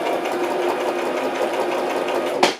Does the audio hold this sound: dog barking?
no